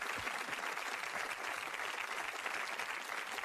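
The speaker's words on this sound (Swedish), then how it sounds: "Det torde väl vara värd en liten applåd här i studion." A studio audience on a Swedish TV talk show gives sustained applause, a thick, continuous patter of many hands that stays level from start to finish.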